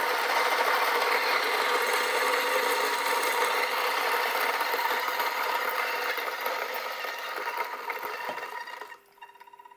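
An Acaia Orbit coffee grinder grinds 10 grams of coffee beans with a steady, loud whirring and crackling burr noise for about nine seconds, then winds down and stops near the end.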